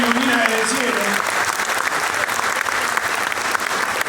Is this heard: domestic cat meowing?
no